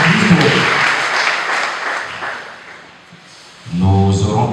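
A church congregation applauds in a dense, loud wash of clapping that gradually fades, and a voice rises at the very end.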